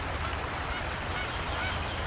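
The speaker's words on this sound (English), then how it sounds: "Canada geese nest here." Canada geese honking on a beaver pond in a floodplain, a few faint calls carried over a steady outdoor wash of background noise.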